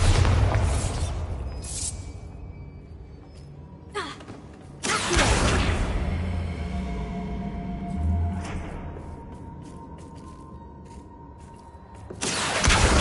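Bombarda spell blasts in Hogwarts Legacy on PlayStation 5: several loud booming bursts with sharp broadband attacks, one at the start, one near four to five seconds and one at the end, each rumbling away between hits.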